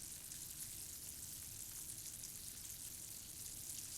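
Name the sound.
sugar syrup boiling on high heat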